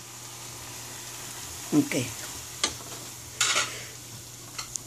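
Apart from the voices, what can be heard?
peas added to a frying pan, stirred and sizzling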